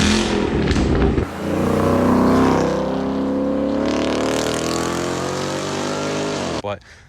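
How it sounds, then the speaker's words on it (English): A custom Mustang GT Premium's catback exhaust revs up close and loud, a deep engine roar that climbs in pitch, holds, then drops off abruptly with a final blip. "I'll put in a clip of it revving up for you guys so you could hear it"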